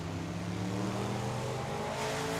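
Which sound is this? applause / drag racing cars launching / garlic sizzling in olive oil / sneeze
drag racing cars launching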